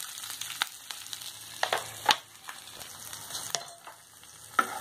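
Green chillies, cut crosswise, sizzle in a hot pan while jeera rice is being made: a soft, continuous frying hiss with scattered sharp pops and crackles, close and unaccompanied by speech.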